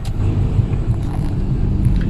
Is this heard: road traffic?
yes